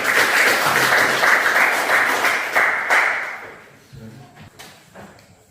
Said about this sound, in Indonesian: Tepuk tangan untuk kelompok kami.